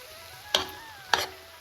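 Two quick scraping strokes of a spoon stirring chopped chow chow with ground paste in a pan, each a short bright rasp over a quiet background.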